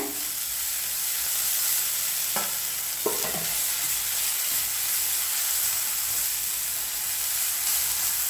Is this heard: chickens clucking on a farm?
no